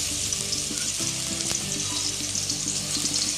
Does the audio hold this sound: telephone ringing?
no